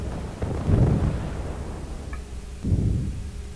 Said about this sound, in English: Incoming missiles, back away.